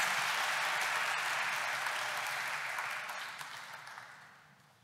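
Steady applause from an audience at a university's academic year inauguration ceremony fills the hall, an even wash of clapping that holds for several seconds before gradually thinning and fading out.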